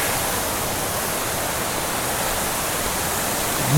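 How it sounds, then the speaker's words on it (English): A dense, unbroken roar of heavy rain pouring down like a waterfall, loud and steady from start to finish. "it's really been raining, and it's like a waterfall over here."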